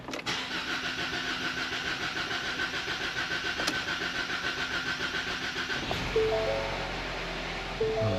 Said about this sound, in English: Oh, that was a long crank, but it started.